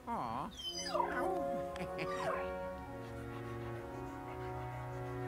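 A dog whimpers and yips in Luigi's Mansion 3, a run of high, sliding whines up close, followed by sustained game tones with a voice speaking faintly beneath.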